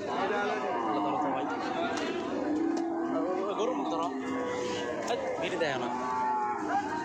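A Holstein Friesian dairy cow moos repeatedly in long, drawn-out calls, close and clear, while people chatter in the background of a cattle market.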